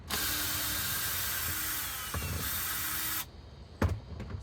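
A power drill bores pilot holes in wood while a 2015 Chrysler Town and Country minivan is fitted with a counter and sink. One steady, close whine runs about three seconds, then stops, followed by a few sharp knocks.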